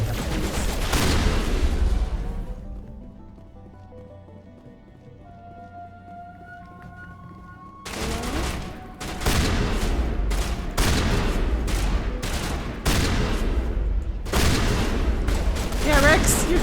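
Shotgun blasts in Mass Effect: sharp, loud booms in irregular clusters that break in after a quieter stretch of soft musical tones.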